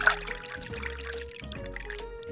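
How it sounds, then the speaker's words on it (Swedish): Orange bell pepper juice pours into a glass in a soft trickling stream that dribbles on and off under light background music. "Så vi häller upp den i ett glas."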